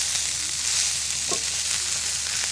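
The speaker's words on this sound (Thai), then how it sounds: "ทอดแมงกีนูนครับผมหรือว่าขั่วแมงกีนูนนะครับผม" June beetles sizzle steadily in a hot frying pan, a continuous dense crackle of oil with a brief stir or scrape partway through, close and even throughout.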